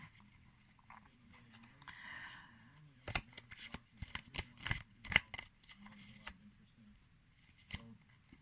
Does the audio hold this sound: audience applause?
no